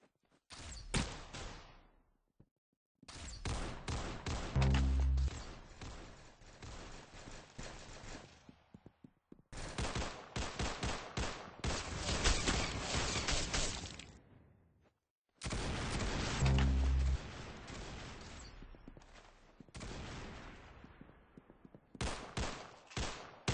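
Rapid gunfire in a video game shooter match, heard as dense bursts of automatic shots in several long volleys separated by brief silences, loud and close throughout.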